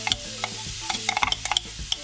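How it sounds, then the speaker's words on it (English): A low, steady sizzle of onion frying in a hot pan, with light clinks and scrapes of stirring scattered across it. "we're going to add the onion. And so you know when it sizzles"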